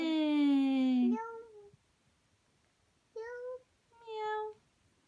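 A young child imitates a cat's meow, one long meow, then two shorter ones separated by quiet pauses, close and clear.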